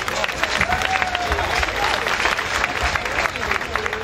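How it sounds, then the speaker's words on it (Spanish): Festival crowd at the Santa Cruz serenade for Santo Cristo de Esquipulas breaks into loud, sustained applause, dense clapping mixed with cheers and crowd voices throughout. "¡Fuerte el aplauso!"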